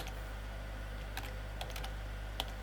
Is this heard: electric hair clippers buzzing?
no